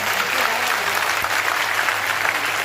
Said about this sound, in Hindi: एक बार जोरदार ताली बजा के आप लोग स्वागत करिए